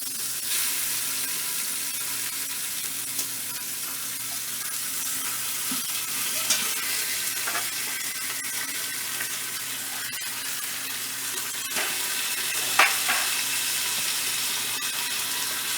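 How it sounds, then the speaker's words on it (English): Beef steak going into a hot Instant Pot for chipotle steak gives a steady, fairly quiet sizzle, with a few brief clinks and scrapes on top and no voices. "So what we'll do is put our steak in."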